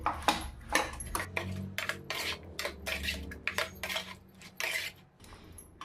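A spoon mixes banana with honey in a bowl, with rapid scraping and clinking strokes against the bowl's sides in uneven bursts, close up and without speech.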